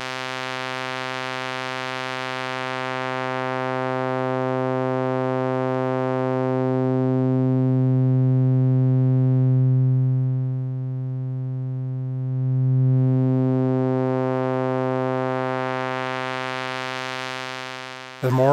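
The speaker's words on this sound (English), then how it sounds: "I'll switch over to the bandpass output on this particular filter, and listen as I sweep the frequency downwards how different harmonics are allowed through." A sustained synth tone through a bandpass filter, its frequency sweeping downward so different harmonics pass in turn, giving a slow vowel-like shift in timbre. Heard alone and steady for nearly twenty seconds.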